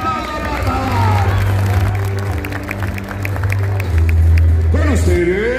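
Crowd applause at the Club Bolívar 2023 team presentation, a steady roar of clapping and cheering that swells near the end, with a loud announcer's voice and a low sustained drone running underneath.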